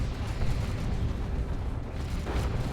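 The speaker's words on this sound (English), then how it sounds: "Exploding Plague Marines with her Inferno pistol." Plague Marines blow apart under Inferno pistol fire in the Dawn of War 2 strategy game, heard as a steady rumbling roar of fire and explosions with no distinct single blasts.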